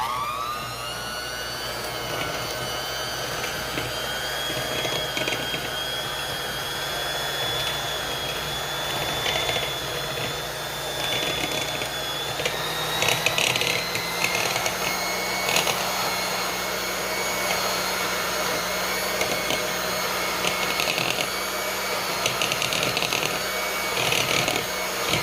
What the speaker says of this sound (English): just get out my hand mixer and see how that works